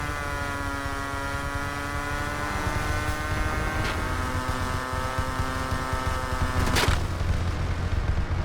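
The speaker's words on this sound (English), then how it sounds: "I have the ability to use both rockets and my machine guns against several other online players." Engine drone of a P-51 Mustang in an online flight simulator game, a steady harmonic hum with bursts of machine-gun fire and rocket blasts, the loudest burst near the end.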